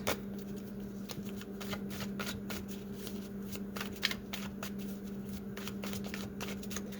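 A deck of playing cards is shuffled again and again, each riffle giving a quick flurry of crisp, close card flicks over a faint steady hum, with no speech.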